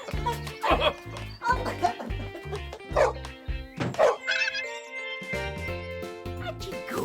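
A small Chihuahua barks and yips in quick bursts, with whimpering in between and a light jingle, all close by; some of the yaps may be a voice imitating a dog.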